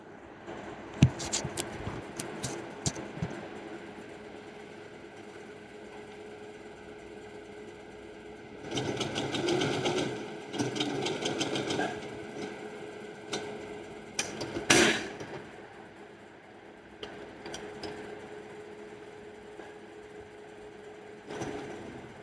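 A sewing machine stitches a blouse in short bursts, a quiet rapid mechanical whirr that starts and stops a few times amid soft handling noises.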